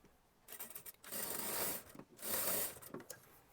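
A sewing machine stitching the sleeve seam of an Anarkali kurti runs in two sustained whirring bursts, each about a second long, close and fairly loud, with brief mechanical clatter between them.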